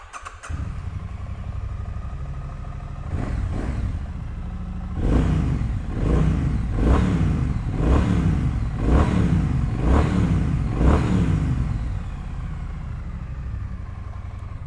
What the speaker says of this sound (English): So these Triumph Bonneville sound absolutely fantastic. Let's fire this one up and have a listen.